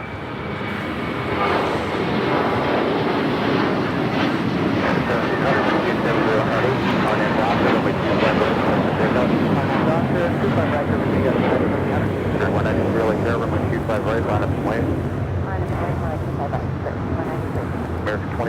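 Finnair Flight 1 airliner taxiing toward the gates at Los Angeles International Airport, a loud continuous jet engine roar with wind buffeting, while someone talks over it.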